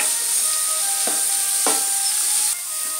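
Onions with ginger garlic paste fry on a medium flame for malai kofta, giving a steady, close sizzling hiss with a few soft stirring knocks and no talking.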